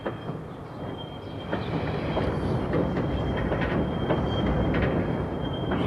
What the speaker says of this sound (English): Trains do something to me.